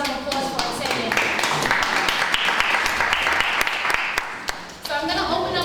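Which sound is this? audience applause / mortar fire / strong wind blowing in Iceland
audience applause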